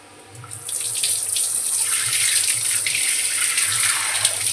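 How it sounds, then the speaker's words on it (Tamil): Hands being washed with soap under a running tap, a steady bright rush of water starting after a brief quiet moment and continuing close and loud throughout, with no talking. "சோப் போட்டு கை கழுவியாச்சு."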